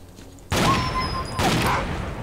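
Gunfire in the video game S.T.A.L.K.E.R. Clear Sky: two loud, close bursts of shots about a second apart, each with a ringing tail, following a short quiet stretch.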